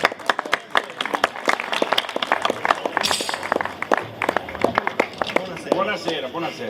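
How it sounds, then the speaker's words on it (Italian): Outdoor crowd at a San Rocco feast-day folk concert in San Pier Niceto, Sicily, claps in a lively patter of sharp hand claps that rises and thins, close and fairly loud, with no talk over it. "Vai con l'applauso, vai!"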